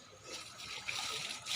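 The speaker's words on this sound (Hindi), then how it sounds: "बीच बीच में पानी डालते रहना ताकि ये नीचे बैठ जाए" Water pours and trickles steadily onto a compost pile, soft and close, with a faint splashing texture throughout.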